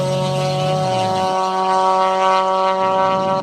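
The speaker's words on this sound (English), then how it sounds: "I was so excited to hear the sound of my VTEC engine" VTEC car engine in a delivery video game, a steady droning engine tone held throughout with a pitch shift early on, loud and alone without talk.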